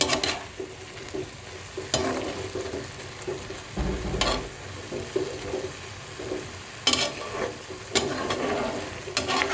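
Fresh bay leaves fry in hot oil for carrot halwa, with a steady close sizzle and a spoon or spatula scraping and knocking against the pan every few seconds.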